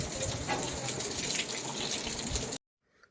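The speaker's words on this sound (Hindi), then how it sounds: "यहाँ पे जो ये पानी गिर रहा है छत के ऊपर से" Rainwater pours from a hole onto a rooftop during heavy rain, a steady broadband splashing gush that runs unbroken for about two and a half seconds, then cuts off abruptly to near silence.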